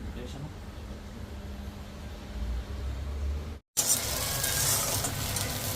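Onions and green chilies sizzle in a pan, a close, steady crackling fry with stirring noises, broken by a brief gap, and a voice is faintly heard in the background.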